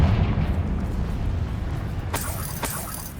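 A Confringo blast spell explodes in Hogwarts Legacy, a loud rumbling boom that fades into debris crackle, followed by two sharp bright cracks.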